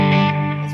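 Electric guitar played through a Xotic Soul Food overdrive pedal with compression switched off, a sustained distorted chord ringing loud and steady, slowly decaying, with no talking.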